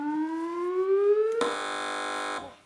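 A quiz show buzzer on a TV panel game, a sharp harsh electronic blast lasting about a second, following a rising alarm-like tone.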